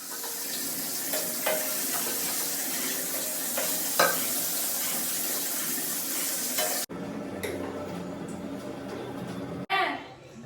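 Brinjal slices fry in a pan, giving a steady close sizzle with occasional scraping stirs, cut by two abrupt breaks, with no voices over it.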